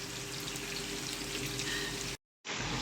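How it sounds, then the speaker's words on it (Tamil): A large batch of about four kilos of onions fries in oil for wedding-style chicken biryani, giving a steady, dense sizzle that drops out briefly near the end before resuming. "வெங்காயத்தை நல்லா கோல்டன் கலரில் பொரிச்சிக்கலாம்."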